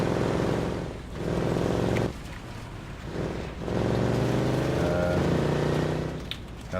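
An SUV engine in the DayZ video game, fitted with the JSRS sound mod, growls close by in a steady rumble that rises and falls as it revs, with brief dips between surges.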